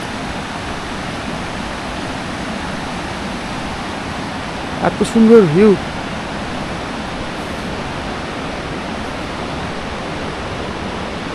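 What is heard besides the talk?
fast-flowing mountain river water near Manali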